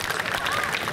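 A brief burst of audience clapping at a Simtudduror reading competition, moderately loud and continuous for a second, blended with crowd murmur.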